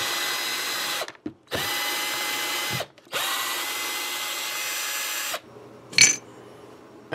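A power drill backs out screws to remove the neck of a Fender Nashville Players Series Telecaster, running in three loud bursts with brief stops, the motor pitch dipping at each start and stop, followed by a short clink.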